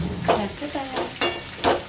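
Ridge gourd peels fry in a pan for chutney, a steady close sizzle broken by several sharp scraping stirs of a spoon against the metal.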